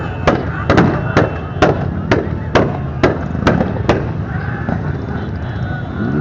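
Firecrackers burst in a rapid series of sharp, loud bangs, about ten in quick succession, then fade into a rumbling outdoor din with scattered pops.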